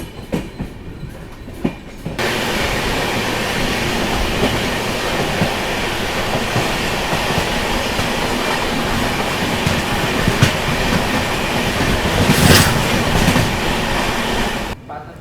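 Train 17423 Tirupati–Chikkamagaluru running on its first trip, a loud continuous rumble and rattle of wheels on rails heard from inside, with brief quieter stretches at the start and end.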